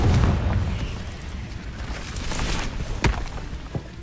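A Confringo blasting spell explodes in Hogwarts Legacy, a deep boom up front with rumbling debris that trails off, then a sharp crack near three seconds and a smaller burst just after.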